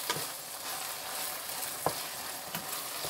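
Bay leaves and ras el hanout spices sizzle steadily in hot oil in a pan for a shrimp and okra dish, with a few soft spoon scrapes from stirring breaking through the frying hiss.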